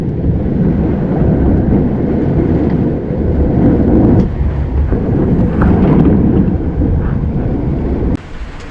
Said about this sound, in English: A tenth of a second later, the thunder.